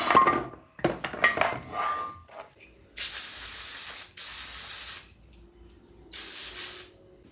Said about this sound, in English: This is brake cleaner that I'm using to clean everything.